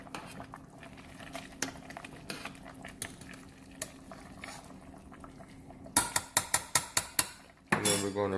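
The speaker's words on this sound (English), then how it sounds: "so let's just stir it around really good" Vegetable beef soup is stirred in a pot, with a spoon knocking and scraping against the metal in a loose rhythm, growing into a quick run of loud clanks before a final clatter.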